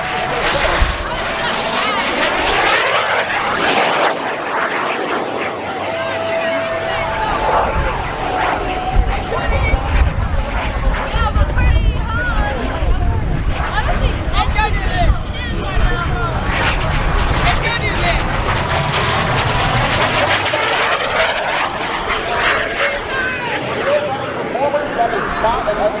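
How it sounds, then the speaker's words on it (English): A mini jet aircraft performs an aerobatic loop at the Wings Over Cowtown airshow at Naval Air Station Fort Worth, its loud continuous jet roar rising and falling under an announcer's commentary and crowd noise. "Watch Tom Larkin pull the mini jet way up over the top"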